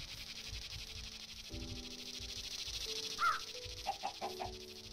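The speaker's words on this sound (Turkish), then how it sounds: "Tavuğun gıdaklamasıymış var ya." A chicken in the Minecraft video game gives a few short, faint clucks near the end, a single call followed by a quick cluster of three, over quiet in-game ambient tones.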